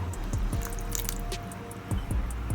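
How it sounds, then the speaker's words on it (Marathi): Tamarind water poured into a spiced alu vadi masala mixture of Malvani masala, turmeric and chopped onion, making wet squishing drips and splashes close up, with a faint steady hum underneath. "चिंचेचं पाणी टाकायचं आहे"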